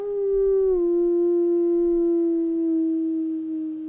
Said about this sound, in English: he heard a howling echoing across the cold air, and was not sure if it was human or animal descent.